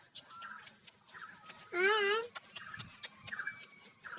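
A single drawn-out cat meow, clear and fairly close, rising and falling in pitch, set against quiet background rustling and soft voices.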